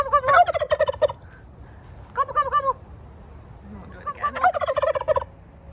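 Poultry turkeys gobble in three loud bursts of rapid, warbling calls, close by and separated by short pauses, with no talking.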